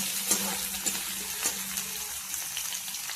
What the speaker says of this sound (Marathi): याचा रंग बदलेपर्यंत याला छान प्रकारे परतवून घ्यायचं आहे